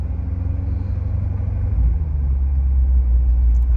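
A 2017 Chevrolet Corvette C7 Z51 engine drones as the car drives, a loud, deep low rumble from inside the car that swells a little partway through and stays steady, with no voices.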